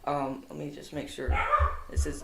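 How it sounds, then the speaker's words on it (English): A pet dog barks indoors in a rural South Dakota home, a few low muffled woofs sounding under a man's speech. "that's my dog barking right there."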